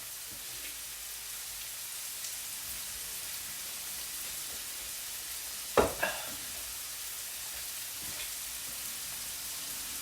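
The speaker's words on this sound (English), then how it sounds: "We're cooking. We're making curry" Curry ingredients fry in a pan with a steady soft sizzle throughout, broken once near the middle by a brief louder clatter of stirring.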